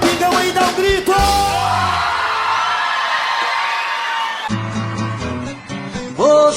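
A live crowd at a sertanejo concert yells and whoops loudly in one sustained roar, with music notes at the start and end.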